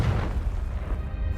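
A Confringo blasting spell from Hogwarts Legacy goes off as a deep, rumbling boom that carries through the whole short moment, dense and loud with no talking over it.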